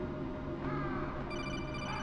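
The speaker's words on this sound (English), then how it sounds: "Ooh, phone call." An incoming codec phone call rings in Metal Gear Solid, a repeating electronic trill that starts partway through over a dense bed of game music and ambience.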